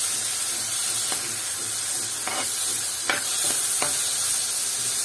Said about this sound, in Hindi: 1 कटा हुआ टमाटर, इनको अच्छी तरह से सॉटे कर लेंगे।